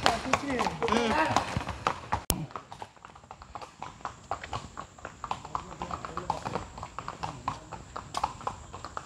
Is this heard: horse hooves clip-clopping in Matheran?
yes